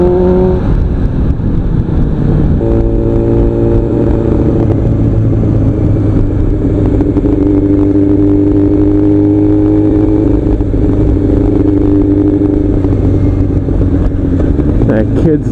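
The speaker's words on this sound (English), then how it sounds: "now I have a really good running bike" A motorcycle engine runs close and loud after a full rebuild, idling with a steady drone, then revving up and easing back in smooth pitch swells, with a voice talking over it at times.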